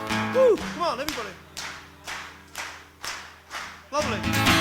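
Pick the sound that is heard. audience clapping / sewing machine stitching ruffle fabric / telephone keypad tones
audience clapping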